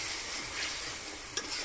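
Fish sautéing in a pan over a wood-fired stove, a short burst of steady hissing sizzle with a single sharp clack of the spatula near the end.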